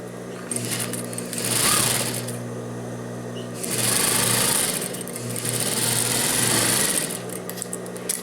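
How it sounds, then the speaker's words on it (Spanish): A sewing machine runs a seam to hold a zipper in place on men's trousers. The motor whirs loud and near in three long runs, with short pauses between them, and a voice faintly underneath. "vamos a pasar una costura para fijarlo en esta parte, nada más para que nuestro cierre no se mueva"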